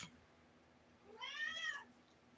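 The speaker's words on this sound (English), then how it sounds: "Are you meowing?" A cat meows once, a drawn-out, rising-and-falling cry near the mic, standing alone in a quiet room with no talking.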